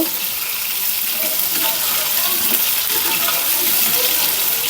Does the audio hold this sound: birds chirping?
no